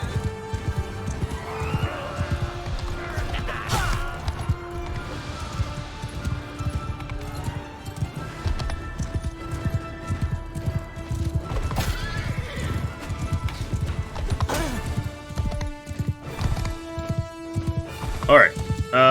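Galloping horses in a Mount and Blade Bannerlord battle: rapid clip-clopping hooves mixed with neighs and whinnies, dense and continuous alongside game music and clashing battle noise, with someone talking over it.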